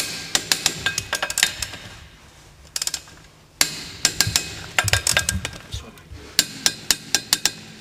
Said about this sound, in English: So we're going to torque the wheels up.